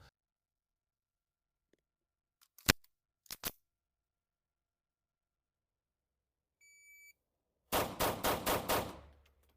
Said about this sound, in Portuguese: ao sinal sonoro do timer vou disparar 5 tiros o mais rápido possível